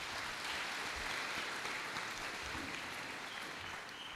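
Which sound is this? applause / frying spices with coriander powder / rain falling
applause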